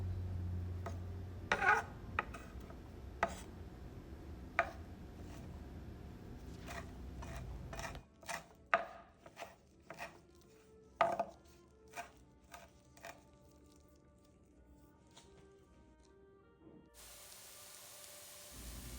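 Knife chopping leafy greens on a board for an Ethiopian eggplant sauce, a run of sharp, irregular close taps with low kitchen rumble early on, then a quieter spaced series of clicks.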